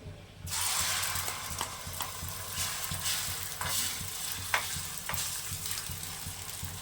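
Egg sizzles in refined white oil in a frying pan, a steady close frying hiss with occasional clicks and scrapes.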